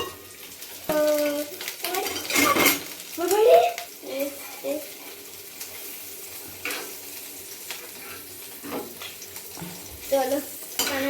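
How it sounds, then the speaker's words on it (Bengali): Onion, capsicum and beans being stirred in a pan while cooking diet chicken, with scraping spoon strokes and a soft sizzle, louder bursts between quieter stretches. "এবার পেঁয়াজটা দিয়ে দিলাম। আমি নাড়াচ্ছি নাড়াচ্ছি নাড়াচ্ছি নাড়াচ্ছি করছি"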